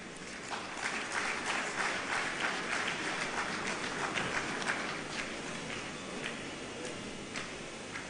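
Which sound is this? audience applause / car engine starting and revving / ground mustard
audience applause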